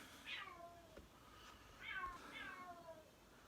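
A house cat meows several times, close by and fairly loud, with drawn-out falling calls in a quiet room while cockroaches are being shown.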